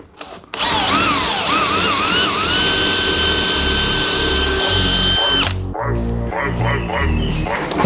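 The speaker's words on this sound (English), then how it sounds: "Got quite a bit of holes to drill." A power drill bores a series of holes into a wooden bed frame, its loud steady whine rising and settling, then giving way to shorter, choppier bursts near the end.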